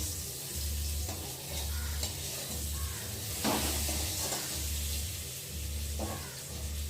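Mango pieces frying in a kadai for chutney give a steady, close sizzle with stirring scrapes. A low hum pulses on and off throughout, and no one speaks.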